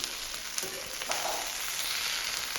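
Ivy gourd (dondakaya) frying in a small amount of oil for a stuffed curry, producing a steady, dense sizzle with a few faint pops throughout, close and continuous.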